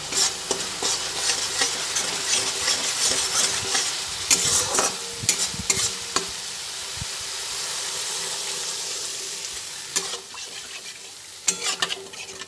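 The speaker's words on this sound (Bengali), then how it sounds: "নাড়াচাড়া করে রেডি করে নিচ্ছি তেলের মধ্যে একটু ভেজে নিলাম" Frying in oil in a pan while being stirred, with a continuous close sizzle, bursts of scraping and clattering from the spoon, and a calmer stretch of steady hiss in the middle.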